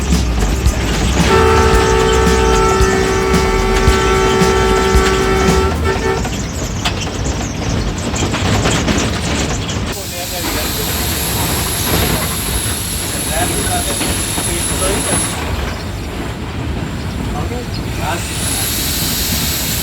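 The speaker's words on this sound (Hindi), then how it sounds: "अभी ट्रेन लाला मूसा जंक्शन पे एंटर हो रही है।" Green Line passenger train in Pakistan running at speed as it enters Lala Musa junction, a loud continuous rumble with a steady horn toot early on and squealing wheel tones later, with talk heard over it.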